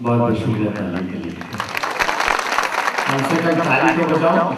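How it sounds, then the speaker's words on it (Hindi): Audience at an outdoor Gujarati folk dayro gathering claps steadily for several seconds, the applause mixed with someone speaking over it. "बहुत शुक्रिया ताली के लिए।"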